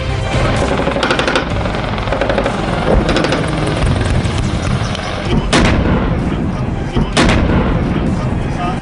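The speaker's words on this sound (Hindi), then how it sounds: "बीकानेर के आसमान में उड़ रहे फाइटर हेलीकॉप्टर की गर्जना और जमीन पर टैंक की दहाड़" A continuous loud roar of military helicopter engines and rotors with tanks on the ground, with sharp booming blasts cutting through at intervals, during army exercises in Bikaner, Rajasthan.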